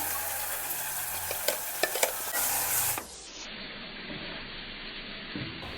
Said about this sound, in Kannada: ರುಬ್ಕೊಂಡಿರೋ ಖಾರನ ಹಾಕೊಳ್ಳೋಣ